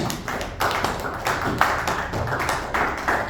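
A congregation claps together in steady rhythmic bursts during a Sunday church service, the hand claps close and fairly loud with no talking over them.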